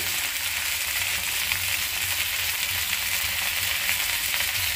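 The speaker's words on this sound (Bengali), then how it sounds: "পেঁয়াজ দিয়ে দিব।" Onions fry in hot oil, a loud, steady, close hiss of sizzling that runs evenly throughout without pauses.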